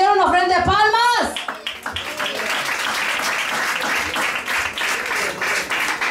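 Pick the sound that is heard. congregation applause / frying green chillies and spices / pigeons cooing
congregation applause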